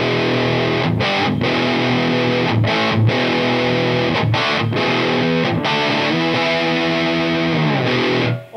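A Gretsch Electromatic electric guitar with a Bigsby vibrato plays loud, driven chords and riffs with brief stops between phrases, alone without speech, fading at the very end.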